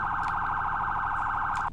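Priority police siren in the ER:LC video game, a fast, steady warbling tone held continuously, loud and up close with no talk over it.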